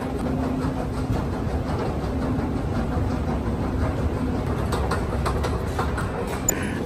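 Metro train ride in Kuala Lumpur, a steady low rumble and hum of the carriage in motion, continuous and moderately loud with no talking.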